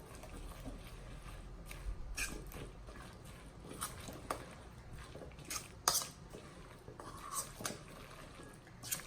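Chopped red onions stirred by hand into a pakora batter with ginger, garlic and green chili paste, giving soft squishy mixing and faint clinks of utensils against a bowl, fairly quiet and close.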